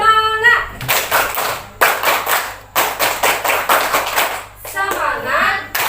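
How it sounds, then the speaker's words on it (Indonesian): A primary school class performs the rhythmic 'tepuk semangat' clapping routine, loud bursts of patterned group claps separated by brief pauses, with children's voices chanting between the clapping phrases. "kita tepuk semangat dulu"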